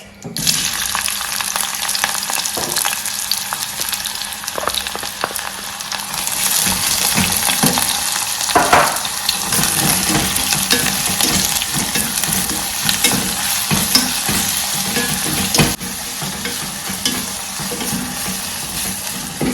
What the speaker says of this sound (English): So I'll go ahead and add my coconut oil to the pan. Add my onions.